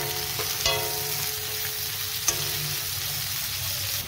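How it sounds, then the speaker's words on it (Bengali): Spice paste frying in a pan for a desi chicken dish, a steady close sizzle throughout with a couple of sharp clinks from utensils. "এদিকে আমি মশলাটা ভেজে নেব।"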